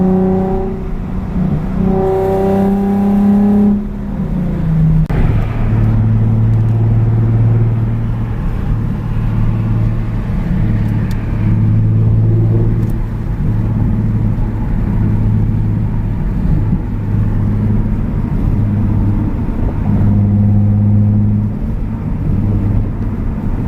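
A Z sports car engine roars continuously while driving, its throaty rumble rising and falling with revving, loud and close, with no talking.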